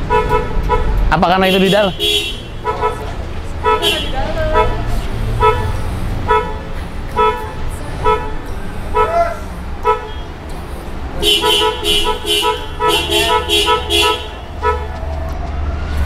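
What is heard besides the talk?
car horn honking on Honda City hatchback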